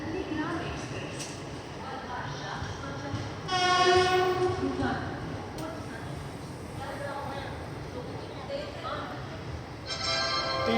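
The Nandigram Express passenger train sounds its horn in several bursts, with a long blast near the middle and another at the end, over the steady rumble of the moving train and a voice speaking.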